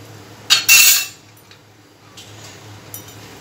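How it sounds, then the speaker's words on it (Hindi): Freshly popped popcorn tipped out of a pot onto a plate: a short burst of clinking and clattering against the dish, then quiet background hiss with a few faint taps. "एक प्लेट में मैं इन्हें निकाल कर दिखा रही हूँ।"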